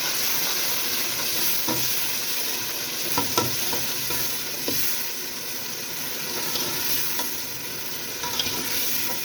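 Onion, tomato, mint and masala frying in a pot for a meat curry, a steady broad sizzle and hiss with occasional spoon scrapes and stirs, close up and without talk.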